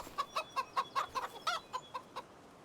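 Chickens and roosters in Farming Simulator 25 cluck in a quick, steady series of about a dozen short calls, close and clear, with no talk over them.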